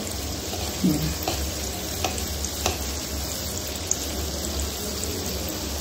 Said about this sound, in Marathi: किती छान होतात, एकसारखे तळले जातात.